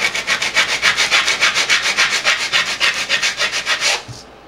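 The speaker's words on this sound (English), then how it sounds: "you keep on sanding until that white area goes away" Rapid back-and-forth sanding strokes with emery cloth on vacuformed plastic, about a dozen rhythmic rasping passes close up, then stopping suddenly.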